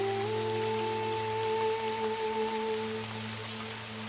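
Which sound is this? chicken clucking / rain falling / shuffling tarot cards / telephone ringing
rain falling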